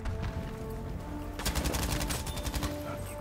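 An MG34 machine gun fires in Battlefield 5, a short burst of rapid rattling shots breaking in halfway through, at moderate loudness over a low background hum.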